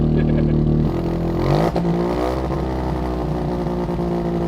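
Turbocharged single-rotor rotary engine in a Mazda Miata revving up hard on a dyno, the pitch sweeping upward and holding at a loud, steady high drone, close and continuous.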